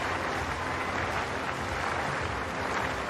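Stadium crowd at a women's 100m heat at the Commonwealth Games athletics, a dense, continuous wash of cheering and applause, loud and unbroken throughout.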